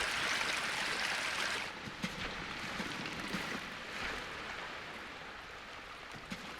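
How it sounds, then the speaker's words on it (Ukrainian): Water surges and rises in The Classrooms video game, a loud rushing wash for the first couple of seconds that then settles into a lower, steady flowing hiss with a few soft splashes and knocks. "Зараз вода підніметься."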